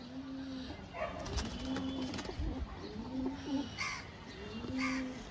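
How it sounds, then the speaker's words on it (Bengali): Pigeons held in the hand give repeated low, rolling coos in a steady rhythm of about four phrases, close and clear, with some background clatter and faint bird calls between them. "আপনাকে এক একটা করে দুটোই পায়রা দেখাচ্ছি হাতে ধরে ধরে"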